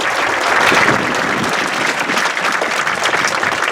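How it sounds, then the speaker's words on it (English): A school audience at a July 2021 band night applauds the juniors, with dense, steady clapping filling the hall throughout and no voices standing out. "About one more round of applause for the juniors who accomplished this goal."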